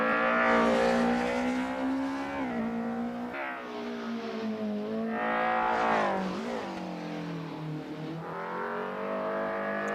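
BMW M3 racing through mountain-pass turns in the Roblox driving game Touge Battlegrounds: a loud engine rising and falling in pitch as it revs, downshifts and accelerates out of corners, steady and close throughout with no speech.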